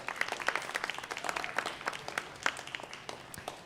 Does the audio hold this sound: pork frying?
no